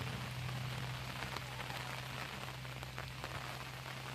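Steady rain falling on a surface in a village, a dense continuous patter with a low steady hum beneath, close and even throughout.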